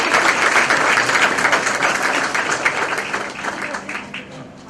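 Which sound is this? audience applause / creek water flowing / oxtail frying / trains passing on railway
audience applause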